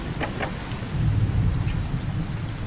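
A steady rain falls in the survival video game Under a New Sun, with a low rumble of thunder swelling beneath the dense patter. There is no talking.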